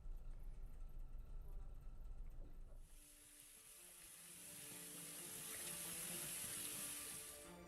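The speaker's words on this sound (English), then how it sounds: "washing your hands is important for killing germs during the pandemic" Tap water runs steadily into a sink as hands are washed, a bright hissing rush that begins abruptly partway through and continues to the end, fairly faint, after a low background rumble.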